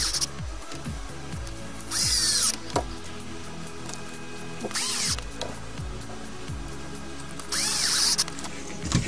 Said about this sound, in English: you're going to go ahead and reinstall those the 4 2mm headed screws that you took out earlier